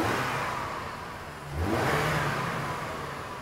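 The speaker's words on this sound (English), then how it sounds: "Go ahead and hit the gas a couple times" A car engine revs up as the gas pedal is blipped during a mass air flow fuel trim diagnosis, the steady running note rising in a surge midway and then holding at a higher, louder pitch.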